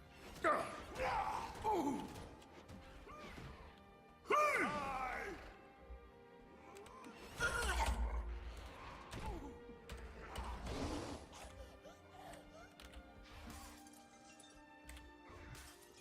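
Heavy smashing and crashing hits as skritt enemies are beaten down in the video game Guild Wars 2, coming in bursts of impacts with layered game effects and a few scattered voice-like sounds.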